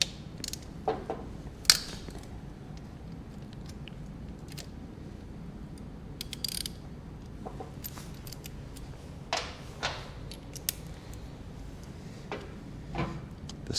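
Hex and T30 Torx oil drain plugs on a BMW R1300GS motorcycle being loosened with hand tools, giving scattered metallic clicks, ratchet ticks and creaks at close range over a low steady background.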